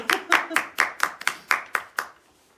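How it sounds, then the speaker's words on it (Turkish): A single person claps hands close by, about nine crisp claps in a slightly uneven rhythm that slows and fades at the end, with no talk. "Alkışla."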